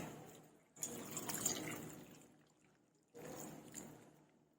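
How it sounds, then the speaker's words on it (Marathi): Water poured into a steel pot holding cooked mango pieces, two separate close pours, each with a bright splashing onset that softens into a trickle and fades out. "आपण त्यामध्ये पाणी घालून घेऊया"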